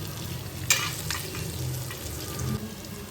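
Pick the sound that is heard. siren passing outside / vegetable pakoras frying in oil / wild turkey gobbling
vegetable pakoras frying in oil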